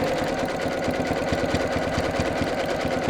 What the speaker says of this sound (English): I'm just going to add another row of stitching above that